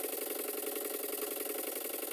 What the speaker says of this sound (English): The engine seems to make a very good noise, and as this is an African Queen type boat, it doesn't want to be silent.